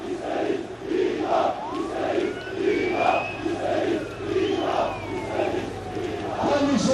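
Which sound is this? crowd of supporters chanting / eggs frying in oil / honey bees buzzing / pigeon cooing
crowd of supporters chanting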